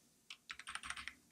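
A short command typed on a computer keyboard: a quick burst of about eight close, crisp keystrokes over roughly a second, after a single lone tap, in an otherwise quiet room.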